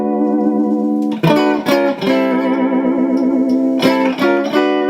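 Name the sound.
electric guitar tremolo effect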